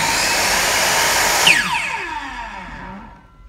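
A Makita electric wood saw with a 190 mm blade, Japanese domestic 100 V model with electric brake, whines at full speed, then cuts off and spins down quickly with a falling pitch.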